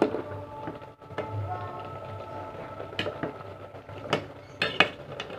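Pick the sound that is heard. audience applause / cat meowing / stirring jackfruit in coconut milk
stirring jackfruit in coconut milk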